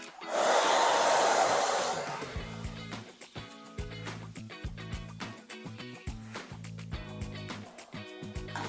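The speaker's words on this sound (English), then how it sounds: "I'm gonna hit my hair with the blow dryer." A handheld blow dryer blasts heat onto hair with a loud, steady roar for about two seconds, then shuts off, leaving soft background music.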